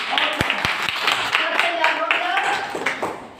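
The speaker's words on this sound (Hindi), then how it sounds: "हाँ हाँ, ताली लगा दीजिए" A few sharp claps from a classroom lesson on triangles, distinct hand strikes early on, then children's voices talking over the rest.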